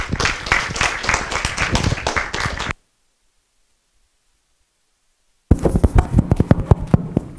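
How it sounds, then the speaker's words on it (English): A lecture audience claps to welcome a speaker, close and fairly loud, with a sudden silent gap before the clapping resumes. "let's give him a round of applause to welcome him"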